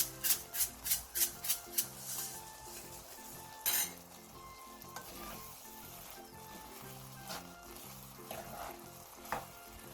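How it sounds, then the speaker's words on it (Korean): Soy-braised black beans finishing in a pan with sesame oil and sesame seeds, opening with a run of quick rhythmic utensil scrapes, then a low bubbling sizzle broken by an occasional clink. "마지막으로 참기름 한 스푼과 통깨를 넣고 1분에서 2분 정도 더 끓여 마무리해주세요."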